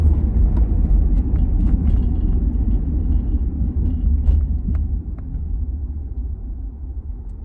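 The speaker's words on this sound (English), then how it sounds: "School bus." A school bus engine rumbles low and steady nearby, a deep continuous drone that slowly fades slightly toward the end, with a few faint clicks over it.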